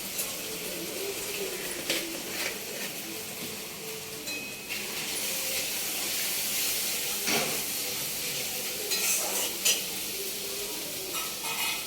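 Mutton kasha sizzling and frying in a pan, with steady hiss and intermittent scraping stirs throughout, close and moderately loud.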